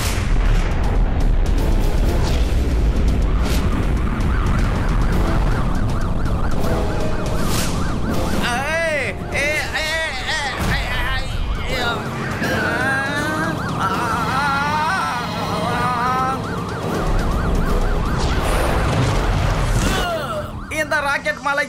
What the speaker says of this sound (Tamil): ராக்கெட் மலை எங்க இருந்து பா இப்படி பொழியுது?